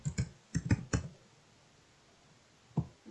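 Quiet clicks of a computer keyboard as a customer name is typed into software: a few quick clusters of keystrokes at the start, a pause, then a single tap near the end.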